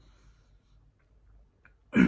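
A single short, forceful cough bursts out at the very end after near silence, close and loud, from a person who has been unwell with a cough.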